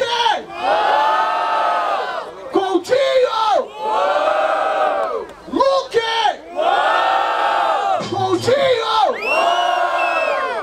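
Rap battle crowd at a Brazilian hip hop tour stage roars and chants in loud, sustained waves of massed voices, with brief dips between surges.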